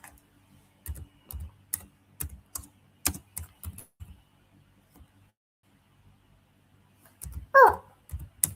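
Bursts of computer keyboard typing, soft clicks in short clusters with pauses, quiet and close, and a dog whimpering or yelping briefly near the end.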